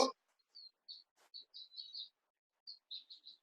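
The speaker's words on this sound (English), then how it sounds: "outside I thought you've got the most vocal Woodland Hills bird" A vocal wild bird singing outdoors in Woodland Hills, with a series of short high chirps and tweets in two bursts, fairly faint and distant, after a brief knock at the start.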